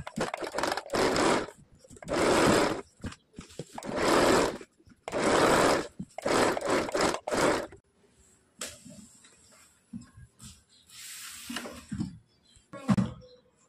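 A sewing machine runs a double stitch on a katori blouse, coming in loud bursts of rapid whirring separated by brief pauses, then quieter handling and shuffling noises follow near the end.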